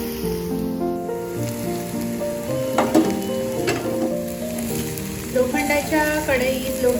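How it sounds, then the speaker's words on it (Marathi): Steady sizzling of bitter gourd and onion frying in an iron pan, with a few clinks and scrapes of stirring partway through. "आता मी यामध्ये ही पिळलेली कारली घालते"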